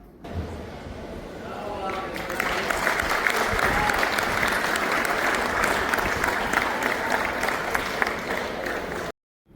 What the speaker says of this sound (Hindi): मयूर आसन करने के बाद लोगों ने कितनी तालियां बजाई